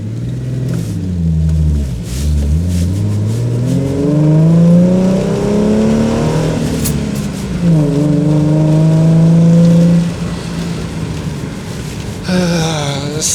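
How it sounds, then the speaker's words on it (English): A Ford Mustang fitted with a K&N air filter pulls away from a standstill, its engine loud and near, rising in pitch through several gears with a roaring rumble between shifts. "Now we're standing still, and I'm gonna do like an acceleration test."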